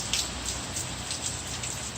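Steady rain pours down during Hurricane Irma, a dense continuous hiss of drops on surfaces with rushing gusts of wind swelling through, loud and unbroken with no talk.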